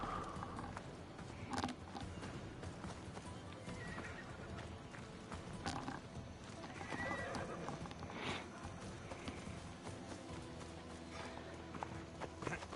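In the video game Assassin's Creed Odyssey, a horse whinnies amid ongoing clip-clop of hooves and game ambience. The sound is fairly faint and continuous, with several neighs scattered through the stretch.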